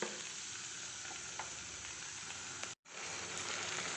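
Shukto spice paste and vegetables sautéing in a pan, giving a loud, dense, continuous sizzle with faint stirring scrapes and one brief dropout partway through.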